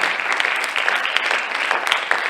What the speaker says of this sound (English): Please give a big round of applause to Om, Sakir, Samir,